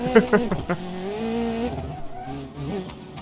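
Rally car in BeamNG.drive leaping off the start line at Rally Island, engine revving through rising gear pulls with sharp tire chirps at first, steady and close, with someone talking over it.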